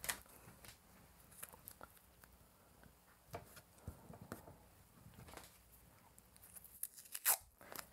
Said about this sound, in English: Now we tape it.